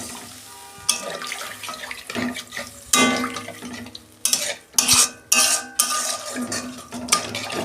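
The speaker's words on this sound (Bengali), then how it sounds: "আমি অল্প জল দেবো" Water splashes into a cooking pan of fried aubergine and potato being made, with metal stirring clatter and sizzling scrapes, loud and close, the pouring and stirring coming in bursts with no talk.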